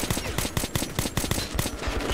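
Rapid automatic gunfire from the video game Metro 2033 Redux, a fast, steady stream of sharp, loud shots hammering out with no pause for about two seconds.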